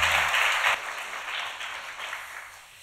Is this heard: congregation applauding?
yes